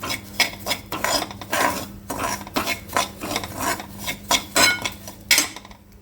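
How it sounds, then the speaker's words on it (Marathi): A spoon mixes salt into dry semolina (rava) in a bowl, making repeated close gritty scraping strokes in an uneven rhythm, alone with no talk. "मी रव्यामध्ये चवीनुसार मीठ घालते मीठ अंदाजाने घालायचं आणि मिक्स करून घ्यायचं"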